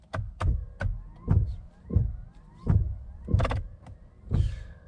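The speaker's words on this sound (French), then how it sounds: "Faites fonctionner les essuie-glaces avant du véhicule sur la position la plus rapide" Car windscreen wipers running on the fastest setting, a regular series of about eight whirring sweeps with a soft thump at each end, evenly spaced and close, no speech.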